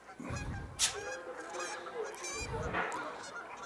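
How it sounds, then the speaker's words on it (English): Two Canada geese honk as they land in center field during a high school baseball game, with a few loud, nasal honks over steady outdoor ballpark noise. "And we just had 2 Canadian geese land out in center field."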